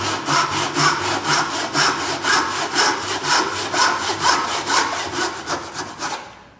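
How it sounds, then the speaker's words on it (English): A hand saw cuts through wood in steady back-and-forth strokes while cutting a tenon, loud and close, with no talking, stopping abruptly at the end. "I brought my saw across, and I'm going to saw down this line"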